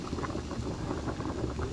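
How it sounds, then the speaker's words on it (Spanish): Quinoa yuyo stalks dropped bit by bit into a pot of boiling water, giving a steady bubbling, roiling simmer close by, with no talk during it. "cuando está hirviendo se le echa de poquito a poquito"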